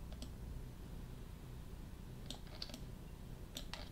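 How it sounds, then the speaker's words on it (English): Computer keyboard keys clicking at a desk during 3D car modeling work, a short tap near the start and then two small clusters of quick, light presses later, faint against a steady low room hum. "when I hit 3 on my keyboard"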